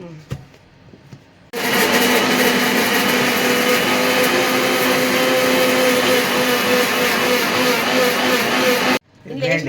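A mixer grinder grinds green chillies, starting after a quiet moment with a loud, steady whirring roar that runs for about seven seconds before cutting off abruptly.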